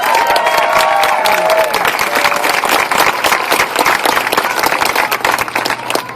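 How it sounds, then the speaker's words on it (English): Loud, sustained applause from a large crowd at a March of Dimes "March for Babies" event, dense and steady throughout. "Let's give them a hand."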